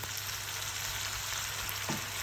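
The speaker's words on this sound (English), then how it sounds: "So keep stirring the concoction now, making sure you don't let it burn" Curry mixture stirred in a hot pan, frying with a steady, dense sizzle and hiss that stays even throughout, with one faint scrape of the spoon near the end.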